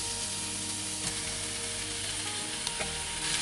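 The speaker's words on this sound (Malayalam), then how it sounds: "നമ്മൾ വഴറ്റാൻ വെച്ചത് നന്നായി വഴന്ന് വന്നിട്ടുണ്ട് സവാള. പിന്നെ നമുക്കതിലേക്ക് മട്ടൻ ഇട്ട് കൊടുക്കാം." Half a kilo of mutton frying with sautéed onions for Kerala mutton biriyani, a constant dense sizzle with occasional clinks and scrapes of stirring, close up and with no voices.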